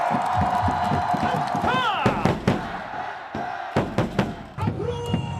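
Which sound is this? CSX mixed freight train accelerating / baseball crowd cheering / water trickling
baseball crowd cheering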